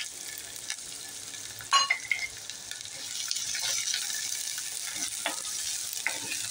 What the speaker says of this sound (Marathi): आता मी अर्धी पळी वाटण्यासाठी तेल टाकलेलं आहे आणि आता आपण कांदा प्रथम भाजून घेऊया.